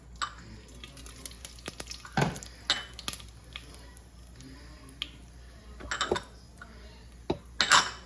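Curry leaves and spices sizzle in a hot pan, with intermittent scraping and clinking of a utensil stirring against the metal over a faint, steady fry.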